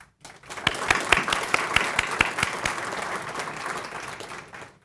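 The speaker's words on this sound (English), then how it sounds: "So if we could all give them a round of applause" Audience at a chamber of commerce small business awards ceremony applauds corporate sponsors, a dense, steady wash of many hands clapping with a few sharp close claps, swelling in quickly and sustained for several seconds before fading.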